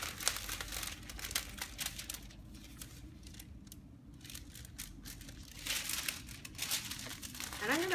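A sheet of drawing paper is peeled up and folded over, giving close, crisp crinkling and rustling that comes in bursts with a quieter stretch in the middle.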